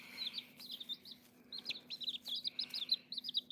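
Tiny baby chicks, including a little brown one, peep in rapid high-pitched chirps, a steady stream of short calls close by, with no talking.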